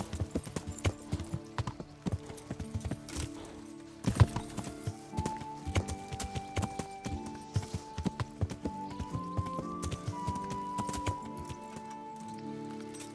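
Horse hooves clop in the medieval video game Kingdom Come: Deliverance, a steady run of irregular hoof strikes with light rattling and a faint tonal line under it, fairly close, no talk.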